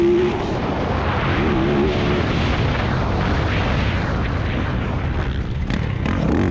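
A 2018 Yamaha YZ450F motocross bike's engine roars continuously and loudly as it rides around a bumpy track, a dense broad drone with a brief pitch sweep near the start.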